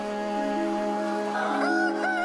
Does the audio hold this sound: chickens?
yes